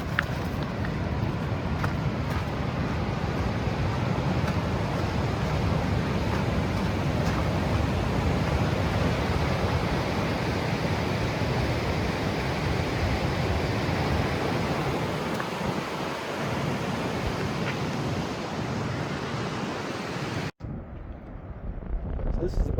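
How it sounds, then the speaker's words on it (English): Granite Rapids on the Colorado River in the Grand Canyon roar as a constant, dense wash of rushing whitewater, heard from a nearby boaters' camp, with some wind buffeting and a brief cut near the end. "This is the boaters' camp off of the Granite Rapids."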